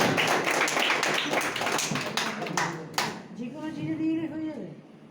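A crowd claps loudly in dense, overlapping bursts for about three seconds before a single voice begins speaking.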